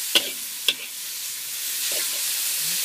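Pork stir-fried in a pan for fried rice with kale, a steady loud sizzle with two sharp metallic clacks of the spatula near the start and softer scrapes later.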